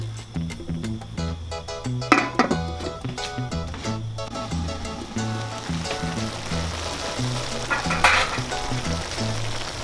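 Paklay, a Filipino stew, bubbles in a covered pan with lemongrass, a continuous moderate sizzle and simmer heard beneath background music.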